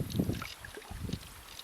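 A canoe paddled along the winding Nipissing River through sedge meadow on a windy day, with soft, close water strokes and gurgles rising and falling under steady wind noise.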